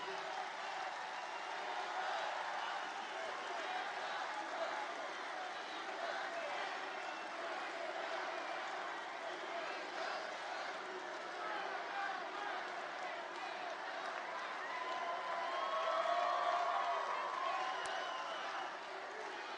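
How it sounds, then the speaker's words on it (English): A large crowd at a campaign rally in Florida, cheering and applauding in a continuous distant roar that swells briefly near the end. "It's a big crowd of people."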